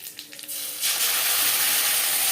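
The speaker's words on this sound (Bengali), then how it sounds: "হালকা করে কারি পাতা ভেজে নেওয়ার পর" Curry leaves and black mustard seeds frying in oil over a low gas flame: a loud, steady sizzle and hiss that swells in after a quieter start and continues without talk.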